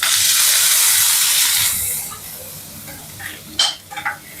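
Chopped onion and green chilli hit a hot pan for okra kootu, giving a loud, bright sizzling burst that fades after a couple of seconds, followed by a few quiet clinks and scrapes of stirring.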